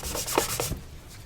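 A nylon stocking rubbed over a leather shoe to shine it: close, brisk swishing strokes in a quick rhythm, fading to quiet rubbing.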